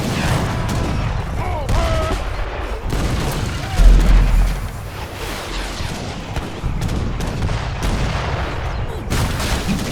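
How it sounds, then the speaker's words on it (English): British mortars bombard estates in the Age of Empires 3 strategy game, a steady barrage of booming shots and explosions mixed with battle noise, while commentators talk throughout. "now we see some of the British mortars trying to actually get in there and attacking the estates"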